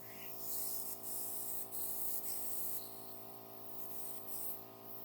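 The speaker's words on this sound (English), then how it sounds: "I'm gonna go ahead and just pulse on that trigger to delete those" An airbrush sprays makeup in short trigger pulses, giving a steady close hiss that swells in repeated bursts over a faint constant hum.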